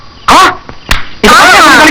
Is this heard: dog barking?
yes